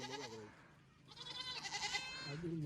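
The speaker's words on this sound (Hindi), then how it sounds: "बकरी का कान पकड़ रखा है इसने। बकरी को तो छोड़ दे।" A goat bleats loudly nearby, a wavering cry at the start, a longer strained bleat in the middle and another beginning at the end, with a hint of voices in the background.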